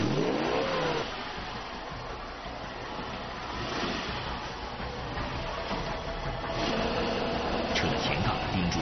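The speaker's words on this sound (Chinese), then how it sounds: "此时无论车轮怎么用力，车体纹丝不动，车轮已经开始打滑空转" Rainforest off-road vehicle stuck in a deep ditch, engine revving hard and steadily near at hand while the wheels slip and spin without gaining grip, a voice briefly heard over it.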